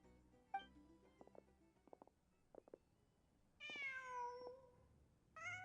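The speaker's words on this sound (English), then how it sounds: "Huh. Just a cat." Cat meowing in the video game Genshin Impact, a few quiet taps and soft scuffles followed by two drawn-out, wavering meows, the second cut short, heard alone without talk.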